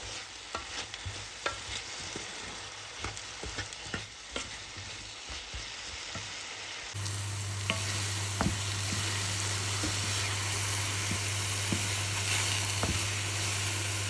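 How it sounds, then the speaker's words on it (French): Apples cooking in a pan over medium heat until caramelized: a steady close sizzle and frying hiss with scattered clicks of stirring, running continuously throughout and getting louder and fuller partway through, with no talking. "Cuire à feu moyen les pommes jusqu'à ce qu'elles deviennent caramélisées."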